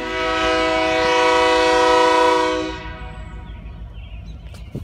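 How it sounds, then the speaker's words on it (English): A train horn blares loudly with a sustained, chord-like tone for nearly three seconds, then cuts off, leaving rumbling rail noise behind. "it's a loud train"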